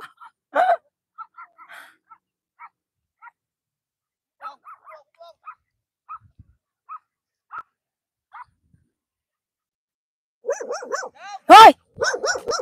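A dog barks a few scattered times in a quiet outdoor setting, with sparse voices between the barks and a louder cluster of barking and talking near the end.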